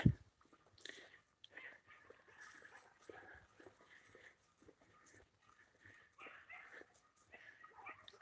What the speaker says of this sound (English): the doggies have heard me, and they're barking doggy noises